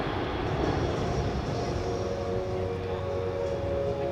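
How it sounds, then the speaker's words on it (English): A C-17 Globemaster III military transport jet at the Dover Air Force Base air show, its engines giving a loud, steady roar with a droning tonal hum as it maneuvers for a full-flap short-field approach. "The aircraft is now maneuvering to demonstrate a full flap approach to a simulated short field runway"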